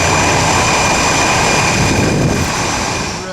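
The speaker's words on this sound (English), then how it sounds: "here on top of the USS Reagan, you can see planes coming in from the Pacific Ocean" Military jets landing on the deck of the aircraft carrier USS Reagan at sea in the Pacific during the Valiant Shield exercise, heard as a loud, steady, close jet engine roar with broadband wind-like rush that holds throughout before fading slightly at the end.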